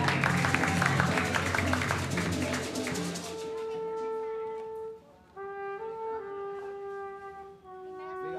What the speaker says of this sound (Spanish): un fuerte aplauso a la música